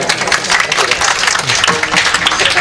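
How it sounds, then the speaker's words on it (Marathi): An audience at a devotional discourse breaks into loud, dense applause, a steady close wash of clapping that carries from start to end. "त्यांची बाजू घेतली की त्यांनी लगेच टाळ्या वाजवल्या"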